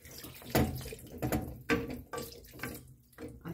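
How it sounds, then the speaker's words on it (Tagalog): Tap water runs into a pot for simmering spareribs after the pineapple juice, soy sauce, fish sauce and black pepper marinade goes in, splashing in several close, uneven gushes. "Lagyan natin ng tubig."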